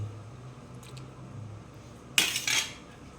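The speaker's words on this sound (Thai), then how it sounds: "คนลงไปให้มันเข้ากัน" A metal utensil clinks and scrapes in a pot as Thai cassia leaf curry with beef skin is stirred, a short loud burst of clatter after a quiet stretch of low background hum.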